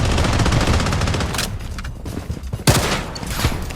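Full-magazine automatic fire from an M4A1 Venom rifle in the shooter game Blood Strike, a dense rapid burst of loud shots, briefly thinning then resuming with sharp cracks near the end.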